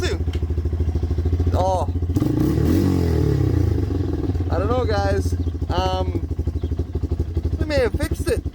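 A Yamaha 225DR motorcycle engine idles and revs loudly up close after a clutch adjustment, with a steady rumbling throb throughout and someone speaking briefly over it.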